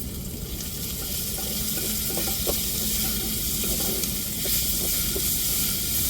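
Ginger garlic paste, pounded on a grinding stone, sizzles with softened tomatoes in a pan for a coconut rice and chicken gravy meal, a continuous frying hiss with occasional stirring scrapes, close and steady.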